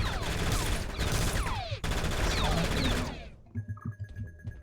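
Rapid gunfire in a shooter video game, dense loud bursts with whizzing ricochets for about three seconds, then stopping abruptly into a few quieter scattered knocks.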